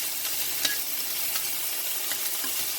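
Minced garlic frying in a pan with leftover rice for fried rice, a steady bright sizzle with occasional soft stirring scrapes, close and continuous.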